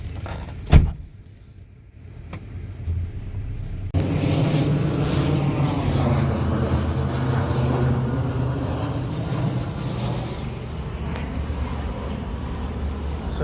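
Aircraft engine roar rises and holds as a steady, broad drone overhead in a town hit by an earthquake, following a sharp knock and a quiet stretch.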